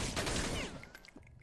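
A dense burst of gunfire from an animated Rick and Morty episode rattles loudly, then thins into a few scattered, fading shots.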